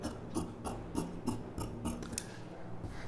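Scissors cut a round neckline into blouse fabric, the lining for a silk saree blouse, in a quick run of about seven crisp, evenly spaced snips close at hand.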